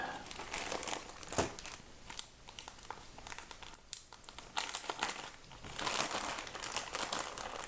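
Hands rummage through a crinkly plastic project bag, producing continuous close rustling and crinkling with irregular louder crackles, no speech.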